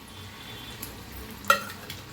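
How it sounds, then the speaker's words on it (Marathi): Garlic and long green chillies, broken into pieces, fry in hot oil with a soft, steady sizzle and one sharp pop partway through. "मिरच्या बिरच्या फुटतेला एकदम तेलात"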